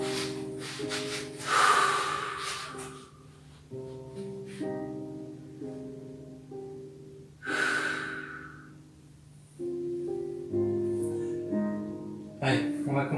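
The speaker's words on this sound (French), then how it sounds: "inspirez, soufflez profondément" Deep breaths in and out during a floor stretching session, slow audible inhales and exhales repeating every few seconds over soft background music, close and fairly clear.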